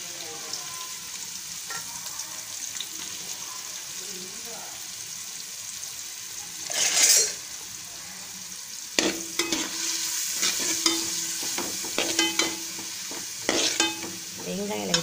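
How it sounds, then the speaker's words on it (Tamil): Finely chopped onions are fried in a pan with curry masala powder for vegetable semiya biryani, giving a continuous soft sizzle with a burst of hissing as they go in, then stirring scrapes, close up. "நம்ம பொடிசாக கட் பண்ணி வச்சுருக்க வெங்காயத்தை சேர்த்துக்கலாம்."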